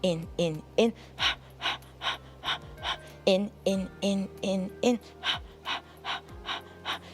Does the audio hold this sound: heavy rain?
no